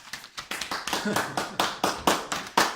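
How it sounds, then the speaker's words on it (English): A few people clapping at a community meeting, roughly a dozen distinct, fairly close hand claps in a loose, uneven rhythm over a few seconds, with no talking. "Big applause"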